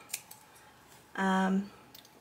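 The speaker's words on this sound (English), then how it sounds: "Okay, so we're gonna cut this down" Sharp scissors make a single quick cut through fabric while a piggy-shaped sewn pouch is trimmed down. The snip is close and crisp and lasts about half a second in an otherwise quiet room.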